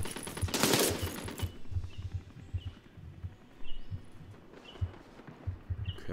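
Gunfire in the video game Call to Arms, with repeated muffled shots and bursts rising and falling across the whole stretch, mixed with game footsteps and ambience.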